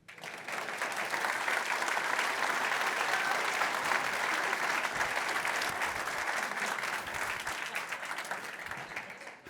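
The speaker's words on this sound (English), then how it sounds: "if you were going to applause, this is the time to do so" Sustained audience applause fills a presentation hall at a business event in Houten, a dense steady roar of many hands that holds for most of the stretch before tapering at the end.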